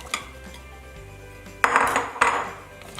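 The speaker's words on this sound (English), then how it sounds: "Now we're going to dump in the potatoes and the carrots and cook them" Potatoes and carrots being dumped into a pot of lamb stew, a clattering tumble of pieces hitting metal in two bursts, preceded by a few light clinks, close and with no talk.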